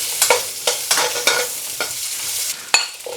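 Finely chopped garlic and diced white onion fry in a pan, crackling and hissing with a run of bright scraping stirs and one sharp utensil knock, close and clear with nobody talking.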